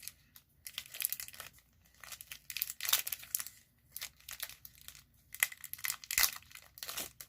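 Close, crinkly rustling of a Pokemon card portfolio's packaging being pulled open by its tab, in irregular bursts of crumpling and tearing.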